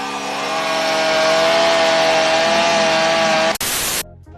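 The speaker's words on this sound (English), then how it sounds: "somebody with a chainsaw is hunting you in a horror game" A chainsaw in a horror video game makes a loud, sustained engine whine, running steadily at high revs, then cuts off abruptly into a brief burst of noise.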